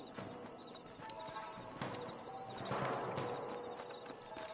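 Horses clip-clop in the Western video game Red Dead Redemption, rhythmic hoofbeats with a whinny amid ambient game sound, fairly faint.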